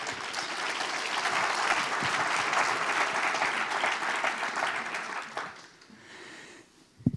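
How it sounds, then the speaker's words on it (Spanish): A church congregation applauds during a sermon, a dense, steady roar of clapping from many hands that lasts about five seconds before fading out into near silence. "Si ese aplauso es para el Señor, déselo."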